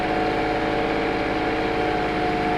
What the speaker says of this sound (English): And this tractor is 75 horsepower.